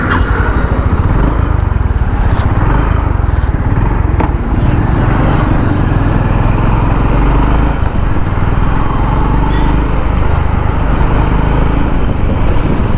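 A 2025 Honda CB350 RS motorcycle's single-cylinder engine idles steadily after starting, a close, loud, even thrum that runs unbroken throughout.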